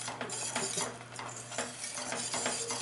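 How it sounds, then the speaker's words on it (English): A spoon stirs a potato au gratin mixture with hot honey mustard in a dish, giving a continuous close, busy scraping and sloshing with a steady hum underneath. "mix it all up."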